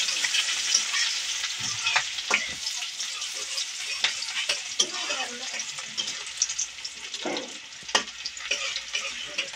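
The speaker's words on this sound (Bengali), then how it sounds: "পেঁয়াজটা ভালোভাবে নেড়ে নেব।" Onions and chillies fry in hot oil, a continuous loud sizzle broken by repeated scrapes and clinks of a spatula stirring the pan.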